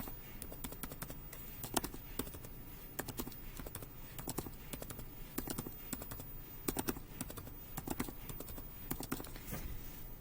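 Quick, irregular key taps on a computer keyboard while entering values into engineering software for a vapor compression cycle analysis, with steady clicks over a faint background hum and no talk.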